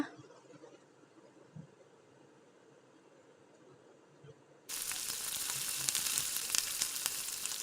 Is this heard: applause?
no